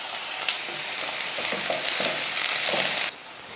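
Mustard seeds, urad dal, onion and curry leaves sizzle in hot oil in a kadai for tempering, a close, steady frying hiss with a few sharp pops and stirring scrapes before it drops off near the end.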